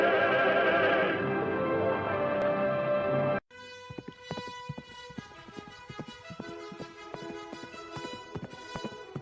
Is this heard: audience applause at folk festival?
no